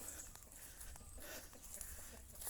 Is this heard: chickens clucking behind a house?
yes